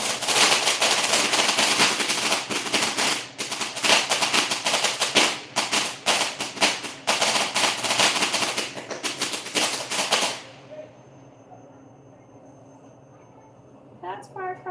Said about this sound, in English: that's firecrackers, you all.